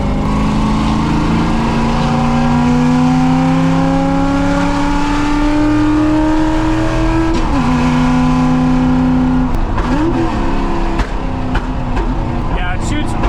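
A NASCAR-inspired Ford F100 truck drives a mountain road, its loud engine pulling through rising gears with climbing drone, shifts and throttle lifts, close and dominant, while a voice is heard briefly.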